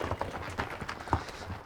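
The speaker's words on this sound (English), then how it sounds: "we're just gonna ease these horses out into the alley" Bucking horses being eased on foot out into an alley, hooves clopping in a loose irregular patter on the ground, moderately close with shuffling movement and no talking.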